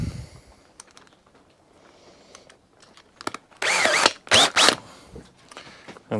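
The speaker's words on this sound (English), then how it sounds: "I can now drill a hole straight through the side of this wall" An electric drill whirs in a few short, loud bursts through the plastic side of a lawn mower recoil housing, after quieter clicking and handling noises.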